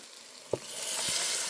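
Softened onion and tomato are tipped out of one pan into another. A single knock of the pan is followed by a sizzle that quickly swells and holds, close and unvoiced.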